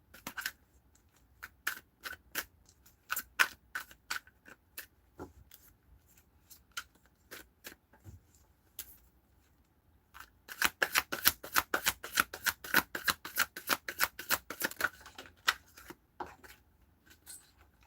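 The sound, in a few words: shuffling cards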